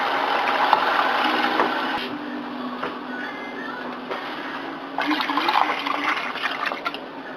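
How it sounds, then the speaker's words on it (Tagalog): Water pours into a pot of rice and chicken for arroz caldo, a loud, close rushing splash that eases off and then surges again briefly. "pwede na natin ito lagyan ng water ngayon"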